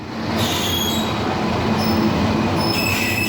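Train in India bound for Jaipur: continuous loud rumble of rolling railcars with high metallic wheel squeals and whistling tones coming and going, steady and close throughout.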